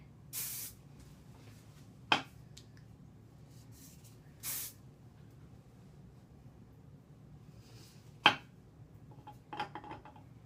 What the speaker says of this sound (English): I'm going to just spray this into place